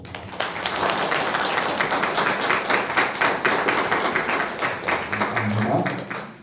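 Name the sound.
congregation applauding in church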